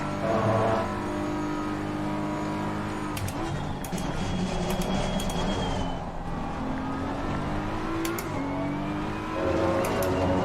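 A race car engine drones loud and steady around the Kyalami circuit in a racing video game, its pitch rising and falling as the car brakes and accelerates through corners, with brief upshift blips.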